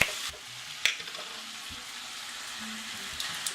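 A manicotti topping is stirred in a pan over low heat, giving a soft, quiet sizzle with a few spoon scrapes and clicks near the start and end.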